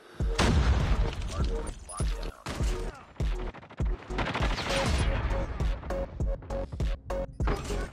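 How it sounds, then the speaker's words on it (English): Airstrike explosions and gunfire in COD Mobile: heavy booming blasts and rapid firing crowd together, loud and close, with repeated impacts and short gaps, mixed with game sound effects and a voice talking. "Yes, our airstrike is ready to go."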